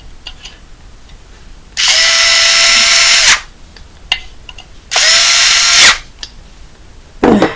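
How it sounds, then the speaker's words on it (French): A powered screwdriver drives screws to mount a Xigmatek Loki 2 CPU cooler, whirring in two sustained bursts of about a second and a half each, close and loud, with small clicks and handling noises between them. "Après, on va les visser avec le tournevis."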